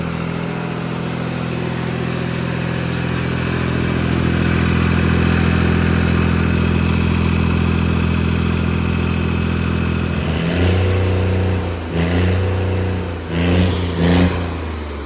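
A 3630 tractor engine revving at a raised 4500 RPM, a loud, sustained mechanical drone with a steady hum that drops and surges in a few uneven bursts near the end.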